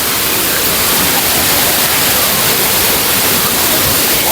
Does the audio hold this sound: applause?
no